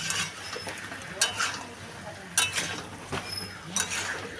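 Chicken and potatoes coated in ginger-garlic paste are stirred in a pan, with soft scraping and sizzling broken by a few sharp clinks of the utensil against the metal.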